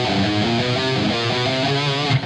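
Distorted electric guitar runs through the Punisher picking exercise, a fast, continuous stream of picked notes played alone.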